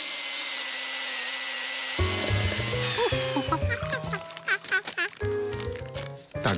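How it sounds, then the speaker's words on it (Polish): Chainsaw in a department store in the Curious George cartoon, starting after a quiet moment as a buzzing, stuttering mechanical whine with shifting pitch, mixed with music and other cartoon effects. "Piła łańcuchowa w domu towarowym?"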